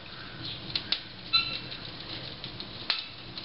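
Kindling catching in a wood-burning range on a cold day gives a faint, hushed burn broken by a few sharp isolated pops and ticks, one slightly louder crack standing out near the middle.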